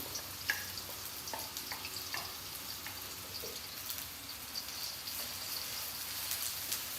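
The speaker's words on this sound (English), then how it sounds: "Okay, so in goes our onion." Red onion dropped into shimmering hot oil for a Chinese dish, giving a steady, fairly quiet sizzle and crackle throughout with a few faint pops and stirs, no voices.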